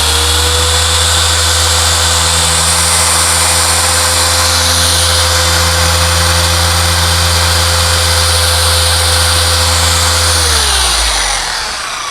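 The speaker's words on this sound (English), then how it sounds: "So that is why I have really enjoyed the Adams Swirl Killer SK Pro" An Adam's Swirl Killer SK Pro polisher runs loud and steady with a constant buzzing drone, then winds down and stops near the end.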